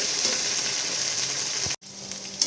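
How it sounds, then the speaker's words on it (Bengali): Okra frying in a pan with salt and turmeric gives a close, steady sizzle and crackle, briefly cut by a moment of silence before the frying resumes. "নুন হলুদ দিয়ে ঢ্যাঁড়সটিকে ভালো করে মিশিয়ে আমরা একটু ভাজা ভাজা করে নেব"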